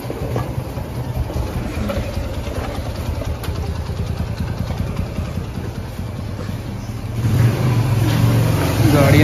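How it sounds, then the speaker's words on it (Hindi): A vehicle engine idles and rumbles close by as it pulls in at home to be parked, with a steady throbbing clatter that swells louder near the end as the engine revs. "गाड़ी अंदर खड़ी कर लें।"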